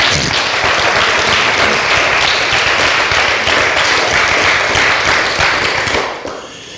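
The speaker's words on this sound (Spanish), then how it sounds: "Aplaude al Señor, aleluya, aplaude a Dios." A church congregation applauds during a Spanish-language sermon, a loud, dense wash of many hands clapping that holds steady, then thins and fades out near the end.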